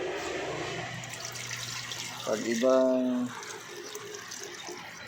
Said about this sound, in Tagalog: Lagyan na natin ng tubig. Dito rin natin kukunin yung tubig na gagamitin natin para hindi ma-water shock yung isda.